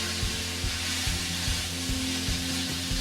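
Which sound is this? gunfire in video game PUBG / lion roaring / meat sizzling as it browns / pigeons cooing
meat sizzling as it browns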